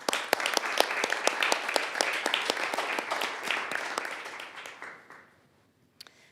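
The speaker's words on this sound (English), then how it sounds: "So a round of applause for Jessica as well." A crowd at a city council meeting claps and cheers together for about five seconds, dense and steady, then fades out quickly, followed by a couple of stray claps.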